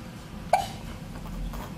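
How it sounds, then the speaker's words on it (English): A three-week-old baby gives a single short, sharp hiccup, close and fairly quiet, against a hushed indoor background with no talking. "You have the hiccups today."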